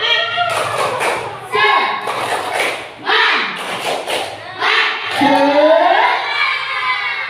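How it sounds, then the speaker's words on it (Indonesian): A primary school class performs a rhythmic spirit clap routine, with loud thudding claps in time with children shouting a chant together at close range. "Sekarang tepuk semangat."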